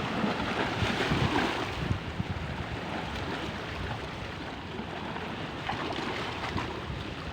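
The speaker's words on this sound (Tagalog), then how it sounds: "Payapang dagat. O di ba, oh? Kasi hindi malalaki ang alon." Calm sea with small waves at the shore, a continuous soft wash of surf mixed with wind buffeting the microphone, fairly even throughout with no talking.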